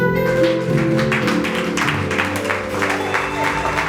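A church congregation at a wedding applauds a family standing to be honoured, with a steady patter of clapping over sustained organ-like music throughout.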